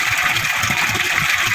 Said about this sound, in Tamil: வாட்டர் ஓவர்ஃப்ளோ ஆக போகுது